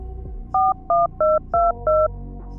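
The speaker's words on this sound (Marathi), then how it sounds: "पटकन तिचा फोन काढला आणि कुणाला तरी फोन केला" Five short, clear keypad beeps as a phone number is dialed, evenly spaced against a low background hum.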